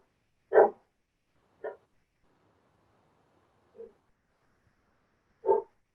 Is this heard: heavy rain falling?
no